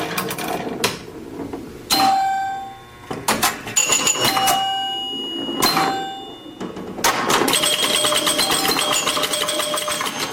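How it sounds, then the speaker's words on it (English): An old-fashioned pinball machine rattles and clacks while bright bells ding in quick clusters, with several sharp chimes separated by short mechanical gaps. "that is the sound of an old-fashioned pinball machine"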